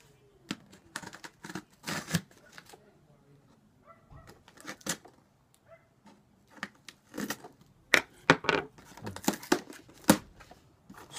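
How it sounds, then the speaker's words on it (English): A cardboard package box being cut open with a blade, a run of close, crisp scraping, slicing and crinkling bursts in irregular clusters, with quiet gaps between them. "So we open the box."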